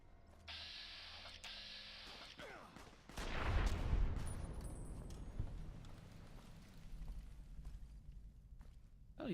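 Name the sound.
gunfire in video game Fallout New Vegas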